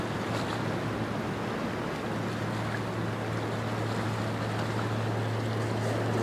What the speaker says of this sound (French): il y a un bateau qui arrive